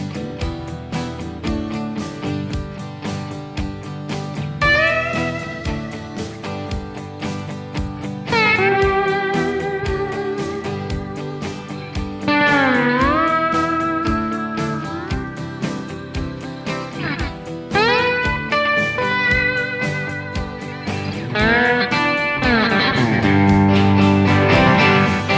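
Electric guitar strums a chugging rhythm part with steady repeated chords, punctuated by bending lead notes and slides, loud and close, with no voices.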